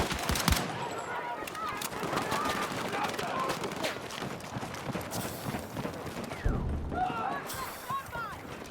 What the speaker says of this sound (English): I'm watching bullets like whiz past my face.